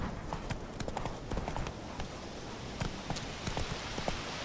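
A horse's hooves in The Witcher video game, a steady, brisk clip-clop of trotting hoofbeats that continues throughout at close range over a busy background.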